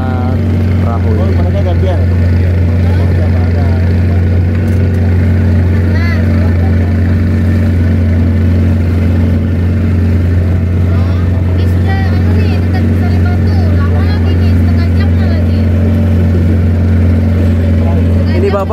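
Steady outboard motor drone of a small boat carrying several people at night between transmigration settlements in Kalimantan, continuous and close, with people chatting over the engine throughout.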